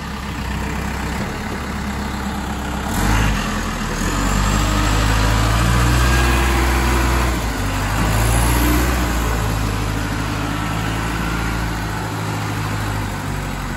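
Ingersoll Rand VR843C telehandler engine running steadily through a push test in tight-radius steering, a constant low diesel drone with a slight rise in load midway, close and loud.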